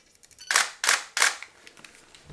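Three loud, sharp mechanical clacks of a camera shutter release, evenly spaced and close by, followed by faint clicks and handling noise.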